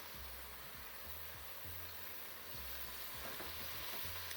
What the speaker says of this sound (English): now keep frying this for another 4 to 5 minutes